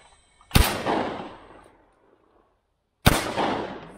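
Two loud MP-155 shotgun shots in a video game about two and a half seconds apart, each a sharp crack followed by a long echoing decay, with nothing else around them.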